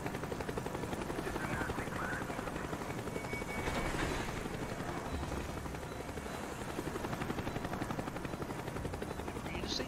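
Helicopter in the Call of Duty Black Ops video game, a steady loud rotor chop pulsing throughout the whole stretch, close and continuous with no break.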